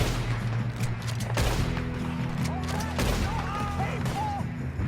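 A chaotic gunfight during a train robbery in Red Dead Redemption 2, with dense overlapping gunshots and crashes layered over a constant roar, plus scattered shouting voices in the mix.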